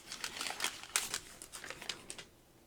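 Foil trading card pack from Topps' 1991 sticker card series being torn open, its wrapper crinkling in dense, close bursts of crackle for a few seconds with no talking.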